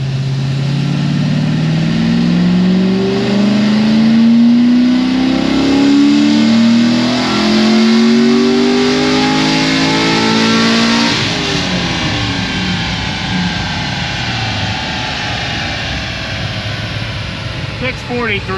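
A Chevrolet LS7 V8 revs hard through a full pull on a dyno, the engine note climbing steadily and loud for about eleven seconds, then dropping off into a rumbling coast-down.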